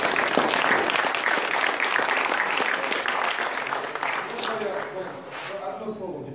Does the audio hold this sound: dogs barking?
no